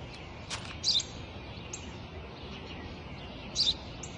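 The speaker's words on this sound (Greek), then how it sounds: "Ένα σπουργίτη είναι, πατέρα." A sparrow gives two short, high chirps a few seconds apart, faint against a soft steady background hiss.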